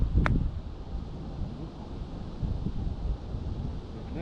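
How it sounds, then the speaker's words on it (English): Strong, cold wind gusts buffet the microphone on a golf course, a rumbling low roar that swells and eases, with a brief sharp knock at the start. "Just keep catching these like insane gusts of wind."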